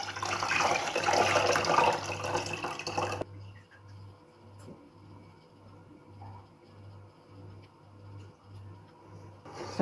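Grain being washed and rinsed in water for an Ethiopian soup, a busy splashing, sloshing wash for about three seconds before it stops, followed by quiet with a low steady hum.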